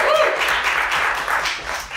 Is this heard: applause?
yes